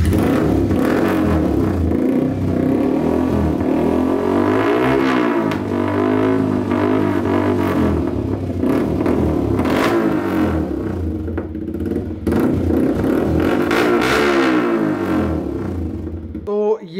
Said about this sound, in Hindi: एग्जॉस्ट नंबर 2, ये भी है SC प्रोजेक्ट का शॉटगन, और अभी इसकी क्वालिटी चेक करते हैं।